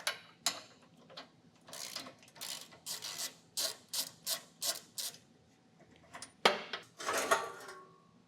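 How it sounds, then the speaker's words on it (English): A ratchet fitted with a 21 mm socket backs bolts out of a 2023 Jeep Grand Cherokee L during a trailer hitch install, giving a quiet, rhythmic string of sharp clicks in short bursts. "This is going to be a 21 millimeter socket to get these taken out."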